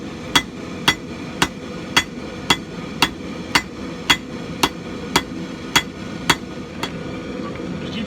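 Hand hammer blows ring out on hot steel being spread into a Norse-style tomahawk head at the anvil, a dozen sharp evenly paced strikes about every half second, loud and close with no talk.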